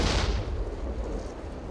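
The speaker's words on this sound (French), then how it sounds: "L'explosion retentit sous la colline" A dragon's belly bursting in a booming explosion sound effect, a heavy blast at the start that fades into a long rumbling roar, loud and without talking.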